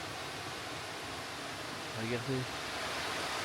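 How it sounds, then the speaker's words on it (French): A small waterfall in Luxembourg, a steady, moderate rush of falling water heard continuously, with a person speaking briefly over it. "Belle petite cascade."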